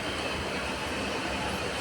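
Low, steady rumble of a moving train at night, heard from inside a carriage, a continuous droning hum with no distinct voices.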